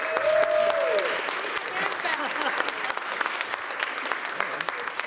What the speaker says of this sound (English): can we give a round of applause to the Radical Welcome Task Force